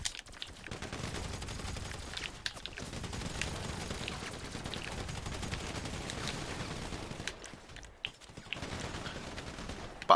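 Space alien weapon fire in GTA Online, a steady stream of rapid gunshots that continues almost without pause for several seconds, close and loud, with brief gaps near the end.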